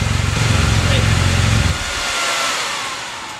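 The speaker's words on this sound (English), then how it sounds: "bike started up when I got home from work today" A motorcycle engine runs loud and close with a rhythmic, throbbing idle during a tune-up, then cuts to a quieter, softer hum partway through.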